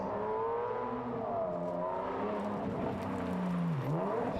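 A supercar engine revs at a London car show, its tone rising and falling in a sustained roar that swoops down sharply near the end, moderately distant.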